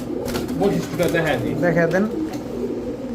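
Hammer pigeons coo close by in soft, throaty, rolling calls repeated over a few seconds, with a person's voice speaking alongside.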